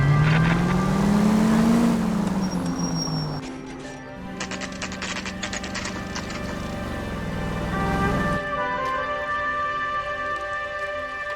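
Car engine in the video game L.A. Noire, a steady drone that rises in pitch over the first two seconds, shifts gear, then holds a constant hum with a brief burst of clatter partway through, loud and continuous with no talking.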